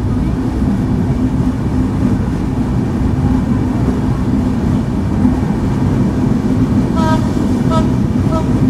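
Madhumati Express LHB coaches roll slowly through Abdulpur Junction, producing a loud, steady low rumble with a few faint higher tones near the end.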